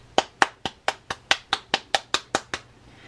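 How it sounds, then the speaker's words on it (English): Eleven sharp hand claps in a steady, evenly spaced rhythm, close and clear, made to trigger a CD4017 LED kit, with no talking. "it works when I clap"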